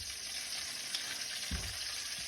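Potatoes for fondants hit a hot pan and sizzle, a soft continuous hiss with a dull thump partway through as they drop in.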